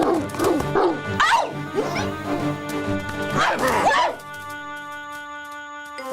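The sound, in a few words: dogs barking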